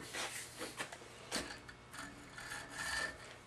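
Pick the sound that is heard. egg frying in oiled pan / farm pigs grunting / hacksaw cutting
hacksaw cutting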